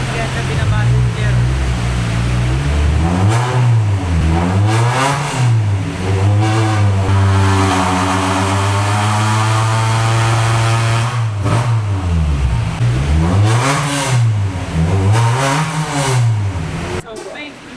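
Honda Civic EG engine revving hard on a dyno, strong repeated rising and falling pulls with a sustained high-RPM hold in the middle, loud and close throughout.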